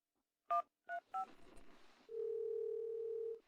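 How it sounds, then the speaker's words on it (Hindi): Three short telephone keypad beeps sound in quick succession, followed by a brief rustle and then a steady, clear dial tone. "मैं एक बार फोन करके पूछता हूं।"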